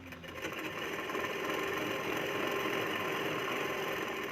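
Sewing machine running steadily as it stitches the edge of a katori blouse, a continuous close mechanical whir with fast rapid stitching and no pauses or talking.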